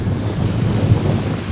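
Steady, heavy wind buffets the microphone with a continuous low roar throughout, at Trestle Bay on North Lake, Ontario.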